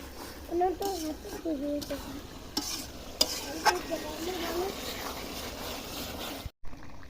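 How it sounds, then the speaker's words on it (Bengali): Meat cooks and is stirred in a big wok at an outdoor New Year picnic, a low frying sizzle with scraping stirs and occasional knocks, close by, under people talking, including a voice. "তো এখন আমরা কিন্তু মাংস রান্না করছি"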